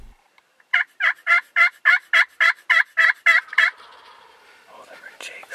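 Eleven loud, evenly spaced gobbles come from wild turkeys, jakes and hens, calling in a field, followed by fainter clucks and rustling as the birds stay close by.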